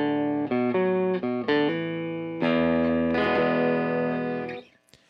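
An electric guitar plays straight into a Vox amp with no pedal: a riff of short, choppy chords, then longer ringing notes that fade out near the end.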